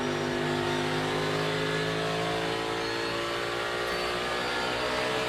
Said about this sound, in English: You hear him downshifting.